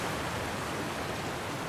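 A waterfall in the video game The Last of Us gives a steady, even broadband rush of falling water, moderately loud and continuous with no voices.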